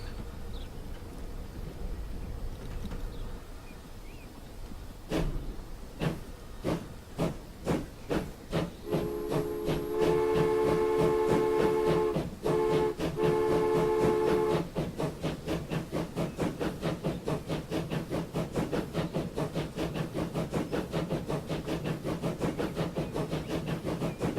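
A train in the video game Transport Fever chugging along in quick rhythmic pulses, with a hissing steam release and a brief whistle tone midway, steady and close.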